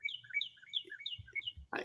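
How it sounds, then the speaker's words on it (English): Outdoor birds chirp and tweet in quick overlapping high calls throughout, fairly faint, with a brief low thump and a short noisy burst near the end. "if you can still hear me over the freaking birds"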